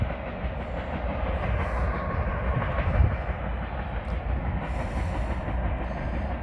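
A southbound freight transfer train led by an IC SD70 and a CN SD70M-2, hauling ballast hoppers, rumbles steadily past, a continuous low roar with rail noise and a brief louder thump midway, fairly close.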